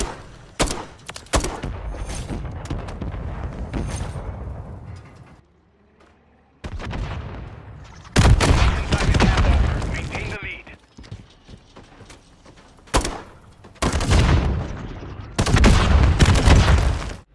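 Gunfire in Modern Warfare III on the Rio map, with loud bursts and rapid volleys separated by brief lulls and mechanical clicks, near and dense.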